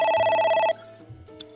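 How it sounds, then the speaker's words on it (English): A telephone rings in the video game AI: The Somnium Files, a bright electronic trill that stops abruptly partway, followed by a few faint clicks and tones, loud and alone. "A phone. Should I pick it up?"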